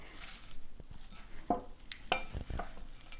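A spoon stirs a berry crumble topping with sliced almonds around a bowl, making quiet scraping and a few sharper clinks against the sides and bottom, scattered and faint in a still room.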